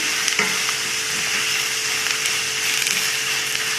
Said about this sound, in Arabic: هاي البصله جاتنا البصله هاي نحمروها شويه